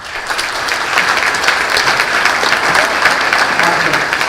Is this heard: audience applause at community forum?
yes